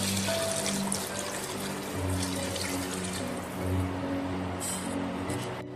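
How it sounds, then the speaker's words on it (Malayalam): Water pours steadily from a cup into a pot of rice, a close, continuous splashing trickle that dips and swells briefly, with no talking. "ഇനി നമുക്ക് അരിക്ക് ആവശ്യമായിട്ടുള്ള വെള്ളം ഒഴിച്ചു കൊടുക്കാം."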